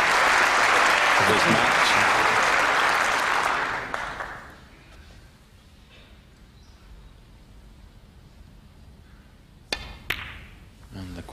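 A snooker crowd at the 1994 Benson & Hedges Masters first round applauds loudly and steadily for several seconds, then fades out; a commentator speaks, and a few sharp cue-ball clicks follow in the quiet.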